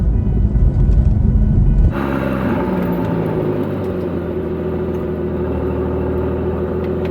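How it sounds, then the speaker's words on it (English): A Porsche Boxster S (981) drives with the top down along the Oregon coast: loud rushing wind and road roar at first, then settling into a steady engine and tyre drone. "driving with the top down along the Oregon coast is the most cool thing to do"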